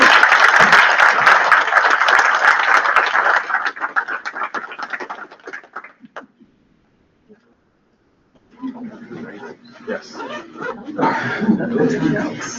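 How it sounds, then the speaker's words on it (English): Audience applause at a spring members' meeting of an ocean observing organization, loud clapping fading out after about six seconds, a pause of near silence, then voices and crowd noise returning. "One more round of applause."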